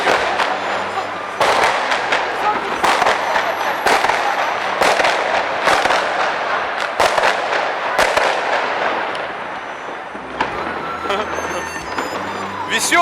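Firecrackers explode during a Chinese holiday celebration in a loud, dense barrage of sharp cracks and bangs that rattle on continuously, some close and some farther off.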